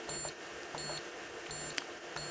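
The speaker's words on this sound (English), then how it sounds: "Hitting any other key will result in an error or beep." A Flexim flowmeter keypad gives a series of short, evenly spaced electronic error beeps, about four in a row, with a quiet steady hum behind them.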